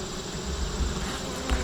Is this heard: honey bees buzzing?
yes